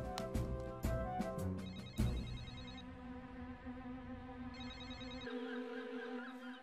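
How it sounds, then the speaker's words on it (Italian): In a Fireman Sam cartoon, a telephone rings again and again with no answer: bright repeated electronic trills over a busy music and effects bed, fairly loud and close, with no talking. "Ma perché oggi non mi risponde nessuno al telefono?"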